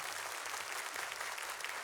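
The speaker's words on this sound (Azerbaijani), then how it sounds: "Alqışlar." An audience at a summer-evening stage show claps in a dense, even patter, heard fairly quietly and steadily throughout the short burst.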